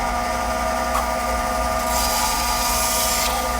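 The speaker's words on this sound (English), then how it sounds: "I'm gonna go ahead and cut this on the bandsaw" A bandsaw with a fine-tooth blade cutting through a wooden dowel, a loud steady mechanical whine and hum that rises slightly in pitch midway as the blade bites into the wood.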